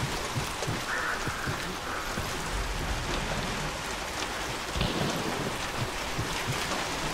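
Heavy rain pours steadily in the video game Hunt Showdown, a dense, continuous hiss with low thunder rumbling underneath, loud and close throughout.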